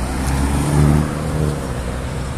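A Mini Cooper drives past on a hot street, its engine a loud close hum that swells briefly then steadies as it goes by.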